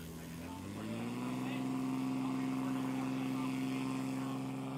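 A Cessna 185 at full throttle on a grass strip at a STOL competition gives a loud, sustained propeller-and-engine drone that rises in pitch and then holds steady.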